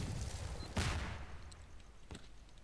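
Gunfire in the S.T.A.L.K.E.R. shooter game: a sharp broadband shot burst, then a second shorter crack a little over a second later, over a low steady rumble of game ambience, moderately loud with no talking.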